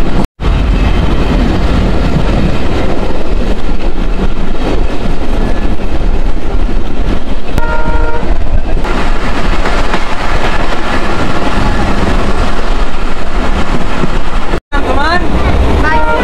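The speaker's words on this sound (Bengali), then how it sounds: "ট্রেনের সেই ঝকঝক ঝকঝক শব্দটি কিন্তু শোনা যাচ্ছে এখন" Train on the Mongla to Benapole line picking up speed, loud continuous rumble and rhythmic wheel clatter with heavy wind buffeting, and faint voices underneath.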